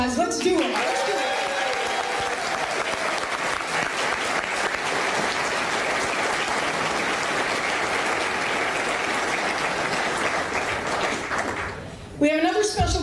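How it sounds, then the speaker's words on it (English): Sustained, dense round of audience applause filling the room at a hockey team name announcement event, steady and loud for about eleven seconds before tapering off and giving way to voices. "let's say thank you, Mr. John Bolton, with a ruckus round of applause"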